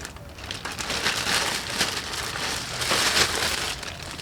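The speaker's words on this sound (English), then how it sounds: "It's in a large plastic bag." Large plastic bag crinkles and rustles while being handled during the unboxing of an NCY Ruckus scooter tank cover, close-up, uneven crackling swells with no talk.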